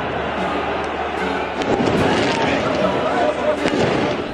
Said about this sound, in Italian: Hanno anche sparato fuochi d'artificio verso gli spogliatoi e sugli spalti.